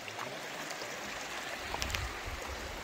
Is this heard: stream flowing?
yes